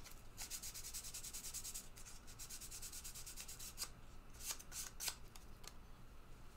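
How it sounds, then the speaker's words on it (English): Hand sanding of a pinball machine part during cleaning: steady, close scratchy rubbing strokes in quick rhythmic bursts, continuous throughout with no talking. "sanding on that side."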